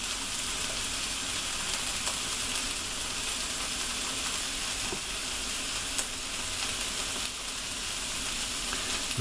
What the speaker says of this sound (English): I can hear those veggies sizzling away.